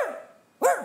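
A voice imitates a small dog's bark, with two short yappy barks.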